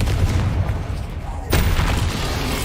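A Confringo explosive spell goes off in Hogwarts Legacy: a loud booming blast hits midway, over a constant rumble of combat noise, with a voice nearby.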